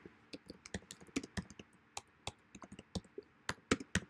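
Quick, irregular clicks of a computer keyboard as someone types code, faint and close, with bursts of keystrokes and short pauses between them and no talking.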